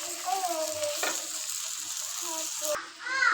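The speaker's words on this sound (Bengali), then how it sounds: "তো আমি মশলাটা কষাই নিতেছি" Spice paste frying in a pan with a steady sizzle and scraping stirs. A voice or a high tonal sound shows faintly at a few points, and the sound cuts off briefly near the end.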